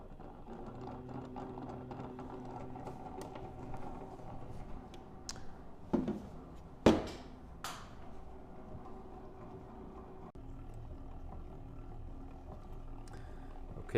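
A stand mixer works sourdough dough with added salt at low speed, giving a steady, faint mechanical whir with a couple of louder knocks midway and no talking.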